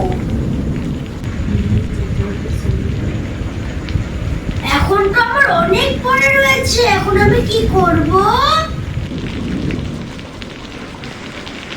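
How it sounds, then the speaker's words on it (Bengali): Heavy rain pours steadily outside with low rumbles of thunder, while someone talks in the foreground for several seconds. "বাইরে খুব বৃষ্টি হচ্ছে"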